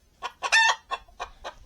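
Chickens cluck and cackle in a short, close burst of about five or six sharp calls in quick succession, heard in a homestead coop during bitter cold.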